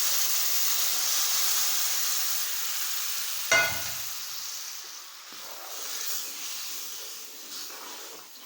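Fried semolina mixed with sugar syrup in a pan for halwa: a sharp burst of hissing as the syrup hits, then softer sizzling and stirring that fades, close by and unaccompanied by talk.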